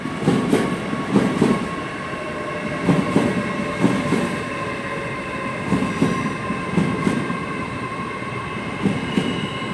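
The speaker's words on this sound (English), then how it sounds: "Coming in now is a terminating Great Western Railway service, formed of 800-317." A Great Western Railway class 800 train, unit 800-317 up from Bristol Temple Meads, rolls into London Paddington, its steady rumble and rhythmic wheel clatter echoing under the station roof amid faint station ambience.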